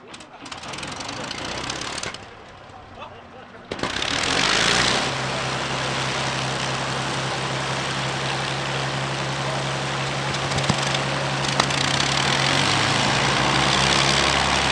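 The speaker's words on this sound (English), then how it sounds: "we saw taxi runs by the resident Lancaster B7, Just Jane" Avro Lancaster B7 Just Jane taxiing at an airshow, its piston engines running with a loud steady drone and low throbbing hum that builds after a brief lull, with some talk at the start.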